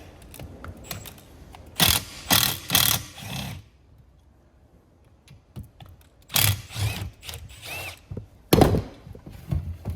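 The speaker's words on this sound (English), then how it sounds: "Just going to go straight into my ratchet gun." A ratchet gun runs on the bolts of a Titan Wagner main housing in loud, short bursts, two close groups of whirring rattles separated by quiet handling noise, close up with no talking.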